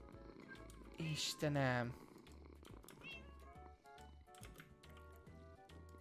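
Minecraft cats meow and purr in a game, with bright harmonic meows rising over a steady backdrop of game music, while a person exclaims excitedly over them.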